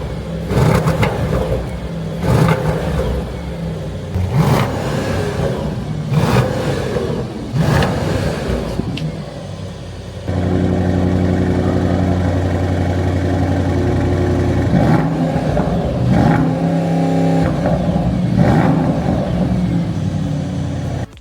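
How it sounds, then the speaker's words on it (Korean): Mercedes-AMG GT 63 S E Performance with a twin-turbo V8, its exhaust revving loudly at close range in several sharp bursts, then dropping to a deep idle rumble broken by further blips. "바이터보 8기통 웅장한 사운드 들려드렸습니다."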